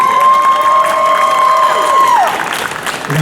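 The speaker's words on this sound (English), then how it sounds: "one last round of applause for our judges and their judges' picks." An audience at a cosplay contest applauds and cheers for the judges, loud clapping and whoops with a sustained high whistle-like tone that drops off partway through before the clapping thins.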